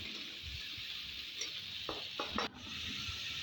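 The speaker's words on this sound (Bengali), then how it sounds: "এবার আমি গাজর আর বিনসগুলো এর মধ্যে দিয়ে দিলাম, এগুলোকেও আমি ফ্রাই করে নেব" Carrots and beans frying in a pan with onion and chilli, a soft, steady sizzle with a few brief stirring scrapes near the middle, close by and with no voices.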